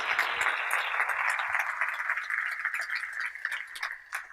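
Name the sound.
audience applause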